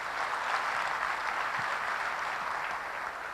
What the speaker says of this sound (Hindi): ताली तो बनती है।